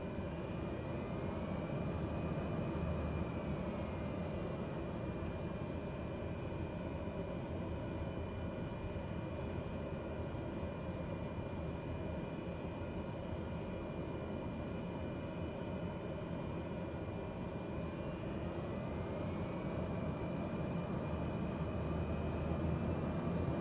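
A Cessna 151 light aircraft taxis along an airport taxiway at night, its engine a steady, even drone heard from inside the cabin, continuous and unchanging throughout with no speech.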